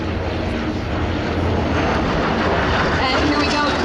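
A jet taking off at the EAA AirVenture Oshkosh airshow, a loud, steady, broadband engine roar that stays constant throughout, fairly close, with a commentator's voice faintly underneath.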